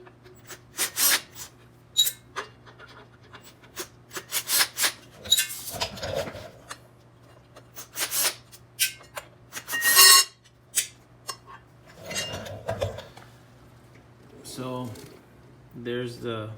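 Screws are being removed from the fill plate of a Pittsburgh 3-ton low-profile floor jack from Harbor Freight. Close metallic clicks, scrapes and a brief rattle come in scattered bursts over a steady low hum, and a voice talks between the tool sounds.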